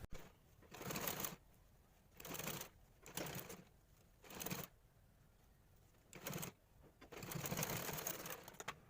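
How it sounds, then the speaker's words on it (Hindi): A sewing machine stitches a small dhoti for a doll in several short whirring bursts of stitching separated by quiet pauses, close and fairly soft, with no speech. "चलिए तो इसमें सिलाई डाल लेते हैं।"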